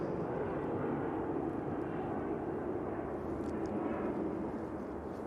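Emirates airliner pushing back at Manchester Airport, a low steady roar of jet engines rumbling in the distance, continuous and fairly faint.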